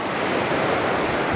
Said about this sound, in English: Waking up slowly with the sound of the waves